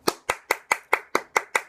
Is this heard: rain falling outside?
no